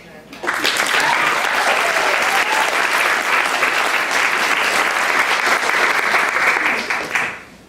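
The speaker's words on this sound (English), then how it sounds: "You should give her another round of applause." At a high school literary award ceremony, a crowd bursts into warm applause for a teacher, rising quickly, holding steady and loud for several seconds, then tapering off at the end.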